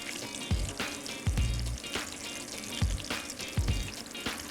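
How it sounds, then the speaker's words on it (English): Meatballs browning in a hot frying pan give a steady, loud sizzle, with a few sharp crackling bursts and low thumps as they shift, and no talking. "Want these meatballs to be nice and browned"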